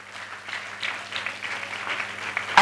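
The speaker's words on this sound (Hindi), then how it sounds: "ओ यीशु के लिए ताली बजाइए।" A church congregation at a Hindi Sunday service claps for Jesus, scattered and fairly soft at first, building into more clapping with a low steady hum beneath, then a sharp loud burst at the very end.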